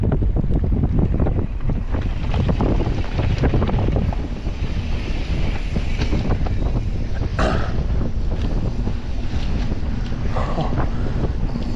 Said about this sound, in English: Refreshing. That north wind.